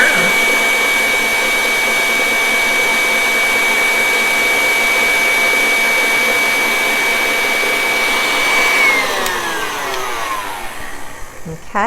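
An electric hand mixer beats chocolate cupcake batter on high, a loud steady whine close by that holds level and then winds down as it is switched off, with no talking.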